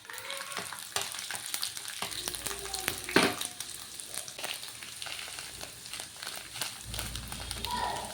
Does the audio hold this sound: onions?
yes